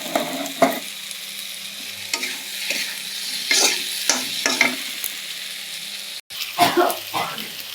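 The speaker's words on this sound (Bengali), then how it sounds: "টমেটো অ্যাড করে দিয়ে দিলাম, নাড়াচাড়া করে নিলাম, কষিয়ে নিব।" Tomatoes and potatoes stir-fried in a pan for a cauliflower roast, with a steady sizzle broken by repeated scraping stir strokes, close and fairly loud, one short pause near the end.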